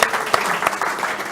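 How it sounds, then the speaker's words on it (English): A small audience gives a round of applause, dense steady clapping from many hands with a few sharper claps standing out, fairly close and alone. "Let's just give Irv a big round of applause here"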